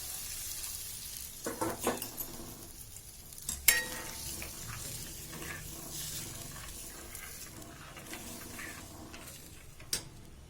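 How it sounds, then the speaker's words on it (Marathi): Hot water poured into a pan of frying spinach curry, sizzling and bubbling near and fairly loud, with stirring and a few sharp clinks and bursts along the way. "मस्त गरम उकडचं पाणी घालायचं"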